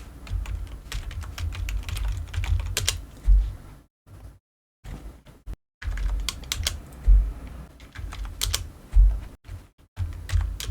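Fingers tap a computer keyboard, entering values into the columns of a database table, in close, irregular bursts of keystrokes with a few short pauses and no voices.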